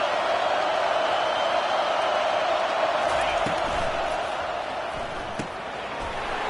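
A loud crowd fills an Auburn vs Clemson football stadium with a steady roar of cheering. Voices in the crowd rise and fall, a few sharp bangs stand out near the end, and a commentator speaks over it.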